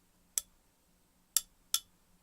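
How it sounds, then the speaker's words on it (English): Three short, dull clinks of a stick tapping a glass held in a hand, one alone then two close together, each dying quickly with little ring. "strike the glass with my hand around the glass"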